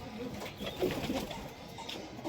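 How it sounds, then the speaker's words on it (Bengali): Pigeons cooing after release from their loft in a Bengali pigeon-keeping yard, soft repeated coos at moderate distance over a steady background hum. "আপনাদের দেখিয়ে দিচ্ছি এক ঝলক পায়রাগুলো ছেড়ে দেখাচ্ছি"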